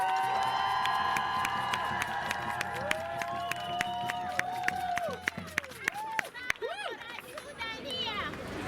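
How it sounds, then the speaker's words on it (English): A rally crowd on a London march against the war in Sudan cheers and claps loudly, a dense wash of whoops and applause building and holding throughout, with shrill individual shouts and whistles cutting through near the end. "can we all just give a massive, massive cheer to the resilient women in Sudan and across the world and here today"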